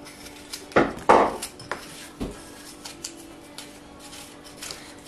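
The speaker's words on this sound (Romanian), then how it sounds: "are puțină treabă pe la chiuvetă, spală vasele" Dishes clatter at a kitchen sink during washing, with two sharp ceramic clinks early on followed by lighter scattered knocks and taps, close and without talk.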